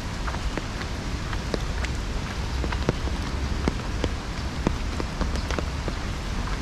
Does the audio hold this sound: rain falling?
yes